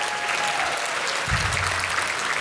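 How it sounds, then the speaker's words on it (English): A ballroom audience at a medical school Match Day ceremony bursts into steady, dense applause that fills the whole moment, with a low murmur rising underneath partway through. "I think that's worthy of applause."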